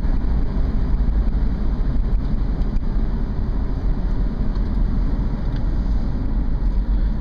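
A Honda CR-V cruising at about 55 mph, heard from inside as a steady, loud low road and engine drone with constant tire rumble and no talking.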